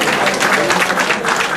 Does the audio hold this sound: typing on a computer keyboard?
no